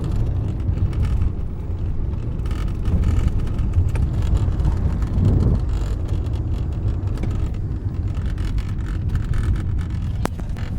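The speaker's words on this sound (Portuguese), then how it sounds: "Acredito que tenha dado para escutar o ruído do carro" Cabin noise inside a Fiat 500 while driving: a steady low road and engine rumble with broadband wind and tire hiss, constant and close, no talking.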